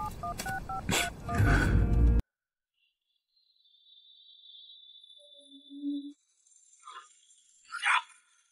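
A borrowed phone is dialed with a quick run of keypad tones over noisy background, followed after a silence by faint electronic beeps and chirps from the handset.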